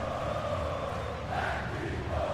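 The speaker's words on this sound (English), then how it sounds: "Well, just listen to this crowd." Dense stadium crowd noise from a football video game, a steady roar of cheering fans held at an even level throughout, with no distinct voices standing out.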